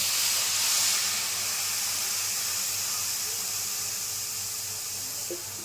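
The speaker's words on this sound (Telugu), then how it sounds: "వేగిన తర్వాత ఇప్పుడు వాటర్ పోసుకుందాం" A broad, steady hiss of water poured into a hot pan of roasted wheat semolina, loud at first and slowly easing off as it settles into a constant rush.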